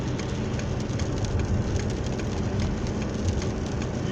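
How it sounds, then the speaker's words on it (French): Heavy rain pours steadily on a moving car, a dense, loud, unbroken hiss and patter filling the cabin with no talk. "Il pleut des cordes."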